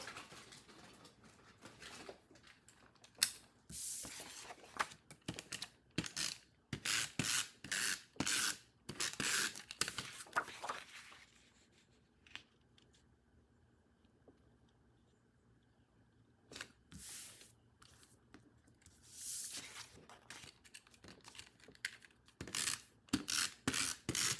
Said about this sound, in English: let me go ahead and grab my adhesive and get that glued down